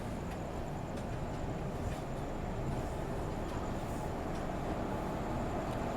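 Rumbling rail noise of a passenger train passing on the adjacent track, heard from aboard a moving train; a steady, broad roar with faint clicking wheel impacts throughout, fairly loud and continuous.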